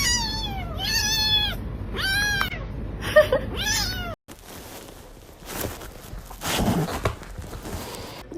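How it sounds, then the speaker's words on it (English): A kitten mews several times in quick succession, high and close, each call sliding down in pitch, followed by a few seconds of shuffling and rustling noise. "He's a sweet little kitty."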